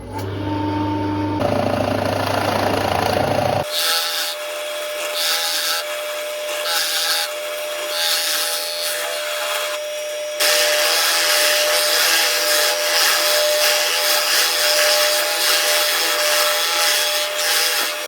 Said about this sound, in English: I'm going to drill a 35mm hole.